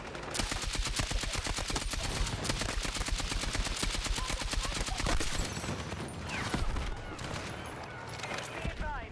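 Sustained automatic weapon fire from the video game Battlefield 6 rattles in rapid, dense bursts for several seconds, with a player talking over the shooting.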